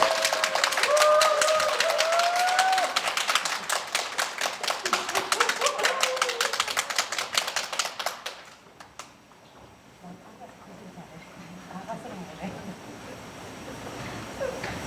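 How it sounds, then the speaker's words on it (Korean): An audience claps for a presenter at a graduate school of human care international academic conference, with a brisk, dense burst of many hands for about eight seconds that then dies away into a quieter room. "자, 박수로 부탁드리겠습니다."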